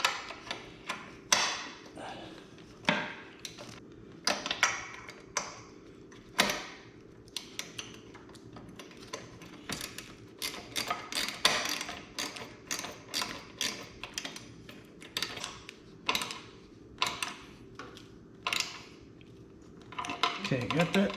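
A 13 millimeter bolt is tightened on a Harley-Davidson Touring rider backrest, with a ratchet clicking in quick uneven runs and metallic taps and clinks close to the microphone, with brief pauses between bursts.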